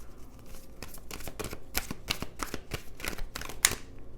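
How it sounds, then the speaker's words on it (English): Oracle cards being shuffled by hand, a quick run of crisp riffling snaps and slaps up close, ending with a sharper card flick. "I'm going to just pull a couple of Romance Angels and then one Angel Advice"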